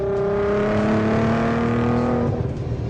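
A very fast car revs hard under acceleration, its engine climbing in steady harmonic tones with a raspy edge, loud and close for nearly the whole stretch before easing off. Any blow-off valve hiss is buried in the engine roar.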